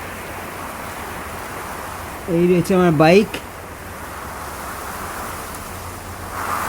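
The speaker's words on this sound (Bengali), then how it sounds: "এখন প্রচণ্ড হাওয়া চলছে, আর চিল্ড হাওয়া" A strong, cold wind blows across a bridge over the Teesta river with a steady broadband roar like rushing air. Someone speaks briefly partway through.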